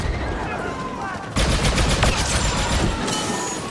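Sustained automatic gunfire from a blaster-style weapon in Star Wars Battlefront 2 multiplayer, loud rapid bursts dense from about a third of the way in, with faint game noise before.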